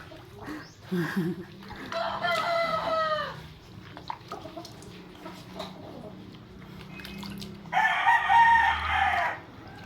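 Fighting roosters crow twice, loud and drawn out, over steady clucking and farmyard noise as the birds are bathed, with faint voices in the background.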